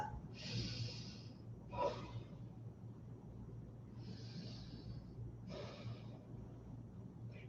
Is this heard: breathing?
yes